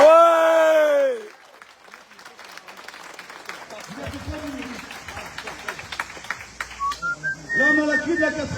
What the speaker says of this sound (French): Tout cela, s'il vous plaît, applaudissez-les.